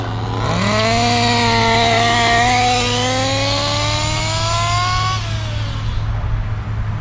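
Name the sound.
Kyosho Inferno NEO 3.0 RC buggy engine running during break-in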